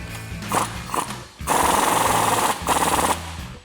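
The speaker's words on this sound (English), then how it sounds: "It's going to be our impact and 36mm socket." Pneumatic impact wrench with a 36mm socket tightening a CV axle nut on a 2007-2018 Silverado 1500, giving loud, close rattling bursts: two short hits, then a long hammering run, a brief pause and another burst.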